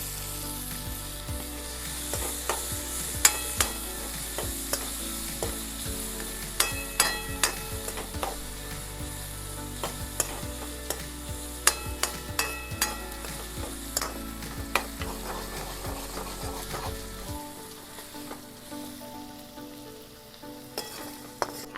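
Onion, chili and tomato fry together for Maggi in a village kitchen, loud steady sizzling under repeated sharp clacks of a spatula stirring against the pan, continuous and close before the sizzle drops away near the end.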